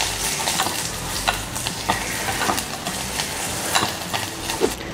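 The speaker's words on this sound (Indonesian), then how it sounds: "Oke, sekarang kita mau panasin minyak. Ini kita akan masukin si bawang putihnya." Garlic fries in hot oil with a dense, crackling sizzle heard up close, with light scrapes and pops scattered throughout.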